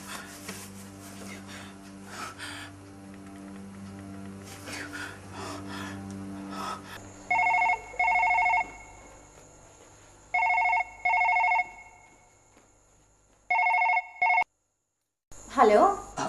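A telephone rings in several distinct double bursts, loud and close, after a stretch of indoor sounds and breathing; a voice follows at the very end.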